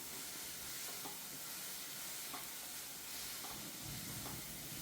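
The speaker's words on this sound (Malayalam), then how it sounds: "അല്പം പെരുംജീരകപ്പൊടി, അല്പം ഗരം മസാല. എന്നിട്ട് നന്നായിട്ടൊന്ന് മിക്സ് ചെയ്യാം." A steady soft sizzle and hiss from a pan of chickpea curry as spices like fennel powder and garam masala are stirred in, with faint scraping strokes of the spoon through the continuous frying noise.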